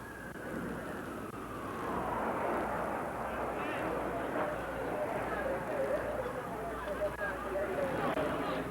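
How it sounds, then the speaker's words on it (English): An airplane passes overhead during live news coverage of the September 11 attacks. Its broad, roaring rumble swells and lingers behind people talking, mixed with background commotion. "There's a sound of a plane"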